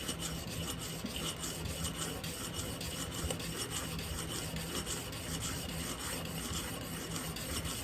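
A steel scraper for viola ribs is rubbed up and down on the 1000 grit side of a sharpening stone, a faint, steady gritty rasp of continuous strokes.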